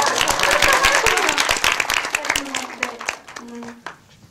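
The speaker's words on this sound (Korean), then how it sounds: "박수 한번 부탁드립니다" Audience applause breaks out at a Korean film Q&A screening, starting dense and loud, then thinning into scattered claps while a voice talks over it near the end.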